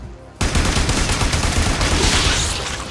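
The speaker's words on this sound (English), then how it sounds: "Destroy it with weapon fire." Rapid weapon fire in Warframe aimed at a hive, a loud sustained automatic burst that starts abruptly after a short quiet lead-in and hammers on densely until the end.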